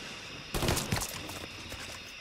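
Two sharp gunshot blasts in Mafia 3 fire close together, followed by a lingering rumble that slowly fades.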